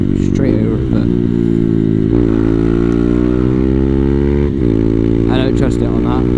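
Honda Grom motorcycle engine running while riding, a loud close droning hum that shifts pitch a few times, with a rider talking over it.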